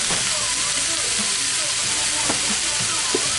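Shaved steak sizzles steadily in a hot pan with caramelized onions, a constant broad frying hiss with occasional sharper pops, close and continuous, with no talking.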